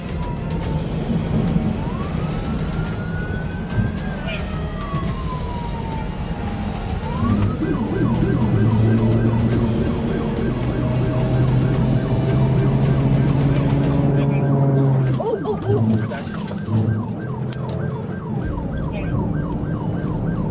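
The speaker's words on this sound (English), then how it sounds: "The trooper initiated a traffic stop by activating the lights and siren." Police car siren from a trooper's vehicle starting a traffic stop on a highway, a loud, steady wail sweeping up and down, later switching to a faster yelp, over constant road and engine noise with radio chatter.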